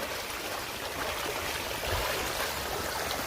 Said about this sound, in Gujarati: જુઓ વરસાદનું પાણી આ બધું કેટલું બધું નીકળી રહ્યું છે તો જુઓ ખેતરમાંથી